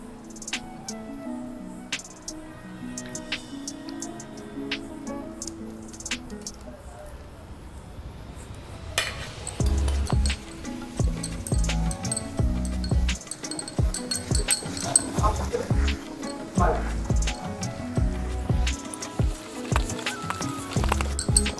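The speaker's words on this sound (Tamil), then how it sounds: "இப்போ நம்ம ரவையோட மிக்ஸ் பண்ணிக்கலாங்க" Cooled jaggery syrup being stirred into semolina (rava) in a bowl for sweet appam, soft wet scraping and mixing that grows busier and louder partway through.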